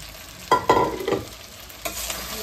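A spoon scrapes and stirs cooked rice in a hot pan, giving a few distinct scraping strokes over a faint, steady sizzle.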